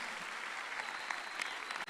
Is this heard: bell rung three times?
no